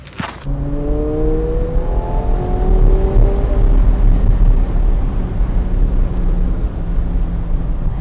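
A McLaren 720S Spider set to Sport or Track mode, its engine revving loud and close in a long rising, sustained roar that holds steady for several seconds.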